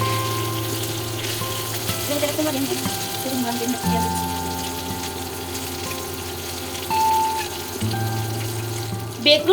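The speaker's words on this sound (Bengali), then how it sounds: "অন্য সাইড আরেকটু মশমশা করে বেজে নেব বেগুন" Eggplant slices frying crisp in shallow oil sizzle continuously with a bright crackle, with occasional stirring and scraping movements and a low steady tone beneath.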